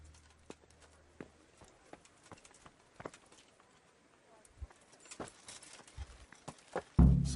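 Horse hooves clip-clopping in a castle courtyard in the medieval game Kingdom Come: Deliverance, heard as scattered, uneven hoof strikes at moderate distance that grow closer and louder, ending in a heavy thump.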